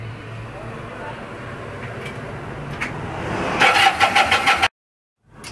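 A Kawasaki KZ400 motorcycle under restoration, with drilled pilot jets and reworked exhaust mounts, cranks and fires. After a quiet lead-in there is a loud, choppy burst of engine starting that cuts off abruptly.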